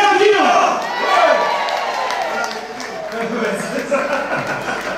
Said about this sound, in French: Attendez un applaudissement pour Jean-Marc Ferdinand.